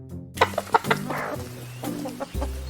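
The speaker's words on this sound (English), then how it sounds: "Chicken." A chicken clucks in a short burst of sharp, close clucks, then gives a few softer calls over faint background noise.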